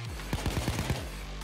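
Gunfire in PayDay 2 crackles as a quick burst of about six rapid automatic shots lasting under a second, moderately loud over a low steady game hum.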